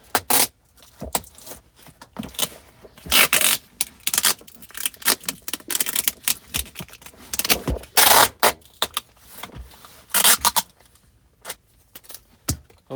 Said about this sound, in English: Wrap that tape around here.